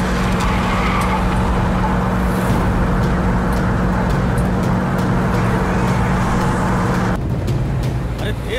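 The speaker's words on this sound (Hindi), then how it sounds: "ए गाड़ी तेज भगाओ।" Car driven fast on a road, a loud, steady engine and road roar that holds for several seconds without letting up, ending with a brief shift in tone.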